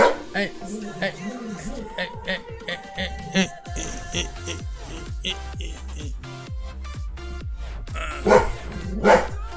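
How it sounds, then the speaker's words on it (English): A big dog barks in a steady series of loud, close woofs, with shuffling movement around it and people talking over parts of it. "Big dog."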